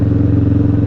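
A Kawasaki Vulcan cruiser motorcycle engine idles or runs steadily, a low, rhythmic throbbing pulse with a slight clatter, close and fairly loud, heard alone with no voices.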